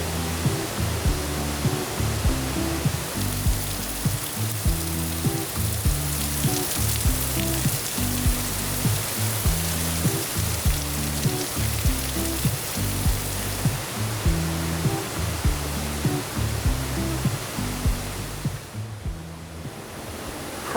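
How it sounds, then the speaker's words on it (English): Waterfalls at Watkins Glen State Park running in full flow, giving a steady, loud rushing roar of falling water that holds unbroken for about twenty seconds, with no voices over it. "there's water flowing all over from the walls down below, and the waterfalls are in full swing."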